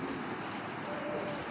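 A male Dobash pigeon, an imported breed with a grizzle coat, coos softly under a dense, steady wash of background noise.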